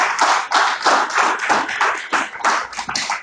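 A church congregation claps at a Sunday celebration service, many hands beating in loud, uneven bursts with short gaps between them, fairly close and without talk.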